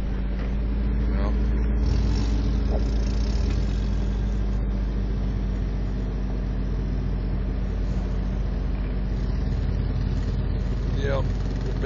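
A Toyota 4Runner's engine drones low and steady while it crawls up a rocky hill on an off-road trail, a constant rumble heard from close by, with people talking over it.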